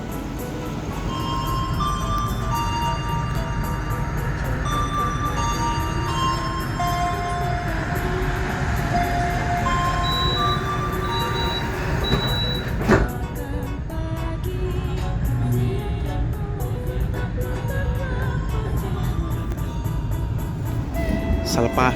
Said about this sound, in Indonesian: kereta ekonominya sedang saya naiki di kereta api Majapahit